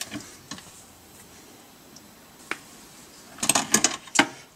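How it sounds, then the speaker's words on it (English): Pedal housing bolts being tightened on a BMW E36 during a manual swap: a few scattered faint clicks, then a close burst of sharp ratcheting clicks near the end, with no talking. "Now we're gonna get all four of the housing bolts tight."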